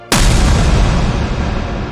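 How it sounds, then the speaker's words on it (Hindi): A sudden, loud explosion booms inside a cave as a horror-story sound effect, with a sharp onset and then a long, rumbling, echoing tail that slowly fades. "गुफा के अंदर एक जोर का धमाका हुआ।"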